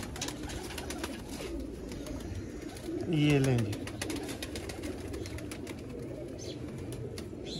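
Sialkoti black-faced pigeons coo once in a short, near, descending burst, with someone talking before and after over steady background noise.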